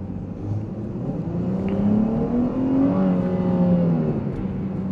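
Dodge Charger SXT accelerating, engine note rising steadily in pitch through the gears, heard from inside the car, smooth and moderately loud with no voices.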